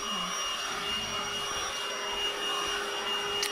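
A Hoover cordless vacuum cleaner bought from Lidl runs steadily with a high, even motor whine and airy rush, constant and close throughout with no speech.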